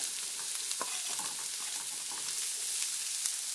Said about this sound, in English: Then we're going to put those shallots right in there. Listen to that sizzle.